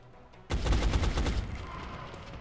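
Gunfire strikes an alien in the strategy video game X-Com: Enemy Unknown, a sudden loud burst that erupts after a quiet moment and rattles on in rapid shots before trailing off.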